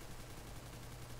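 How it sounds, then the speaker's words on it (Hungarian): Rapid gunfire from a CS:GO competitive match, a dense steady stream of shots without a break, loud and up close, with no talking over it. "Lövöldözök."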